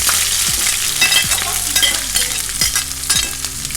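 Chopped onion frying in a pan for fried Indomie noodles, a steady loud sizzle with occasional stirring knocks and scrapes of a utensil against the pan, close and continuous with no voices.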